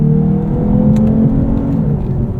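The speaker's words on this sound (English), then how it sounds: "it kind of plays augmented engine sounds through the speakers" Augmented engine sound from a 2022 Lexus IS 350 F-Sport, played through the cabin speakers while driving: a loud, steady, droning hum with a whirring tone that holds throughout, with no talk over it.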